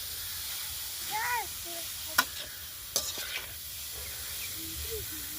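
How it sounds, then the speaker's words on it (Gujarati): Carrot halwa stirred slowly in a pan over a low flame: a few sharp scraping knocks of the spoon over a faint, steady sizzle, with soft tonal sounds in the background. "ધીમે આંચ ઉપર જ ધીમે થી આપણે હલાવવાનું છે"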